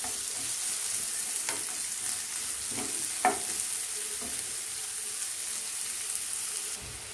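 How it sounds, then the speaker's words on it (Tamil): Chopped onions sautéing with ginger in a pan for ragi flakes upma give a steady, close hiss of frying, with a few light clinks of stirring and no voices. "வெங்காயத்தை நல்லா வதக்குவோம்."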